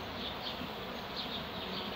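Honeybees flying to and from flowering acacia at a city-centre apiary on a cloudy, rainy day, a continuous close buzzing hum with individual bees droning past now and then.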